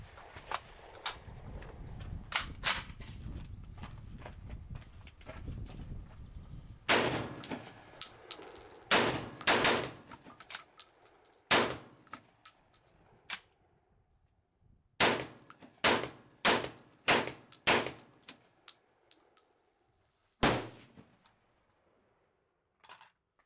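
A Saiga 12 shotgun on gas setting 2 fires lighter loads in a series of sharp, loud reports, some spaced apart and some in quick bursts, with quiet gaps between them.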